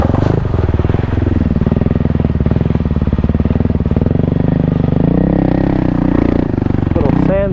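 A 2024 Kawasaki KLX300R dirt bike ridden off-road through cross-country trail and sand, its single-cylinder engine droning steadily close by with shifting pitch, a brief rev rising at the end.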